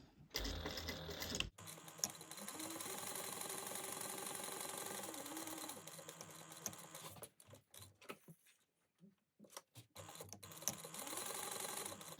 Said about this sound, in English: we're going to sew those together at a 3/8 inch seam allowance